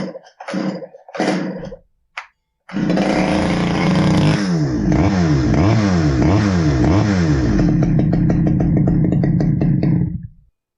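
A Stihl 011 AVT chainsaw that won't idle starts with a few sharp pulls, then roars loud and close, its two-stroke engine revving up and down in rhythmic surges before cutting out abruptly.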